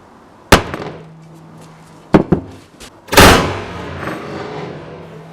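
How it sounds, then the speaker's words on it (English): Several sharp, hard axe impacts strike a glass protector on a Google Pixel phone, a few isolated hits followed by a louder crack, each ringing briefly before fading. "The larger, heavier axe did manage to crack the glass"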